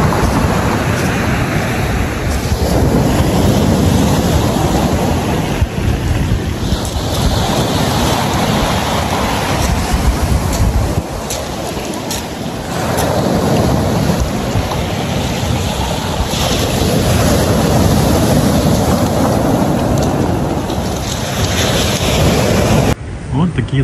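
Sea waves surge and crash while strong wind buffets the microphone in loud, rough gusts, the roar continuous with swelling and easing moments.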